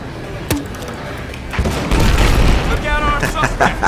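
A noob tube grenade launcher blast in a first-person shooter video game: a sharp pop, then a loud booming explosion with rumbling debris trailing off, close and dominant.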